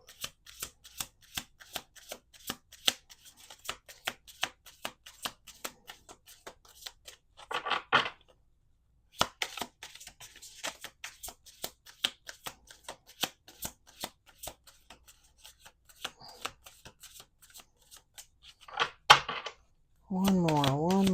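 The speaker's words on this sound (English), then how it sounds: "Let's do two more shuffles." Deck of playing cards riffle-shuffled repeatedly, crisp rapid fluttering bursts with pauses between shuffles, close and fairly loud, with some talk in between and a brief tonal sound at the end.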